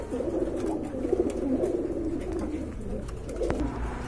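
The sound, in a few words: lark pigeons cooing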